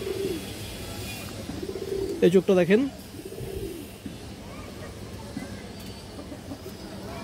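A male pigeon with an all-black tail and black wings gives a short burst of cooing, a few close, loud throaty coos in the middle, with someone talking around it.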